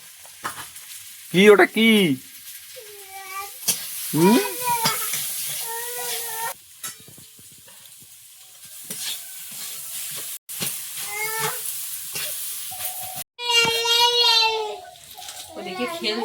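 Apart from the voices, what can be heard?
taro being stirred and fried in a pan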